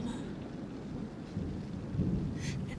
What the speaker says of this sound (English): slamming the surrounding windows shut as thunder crashes outside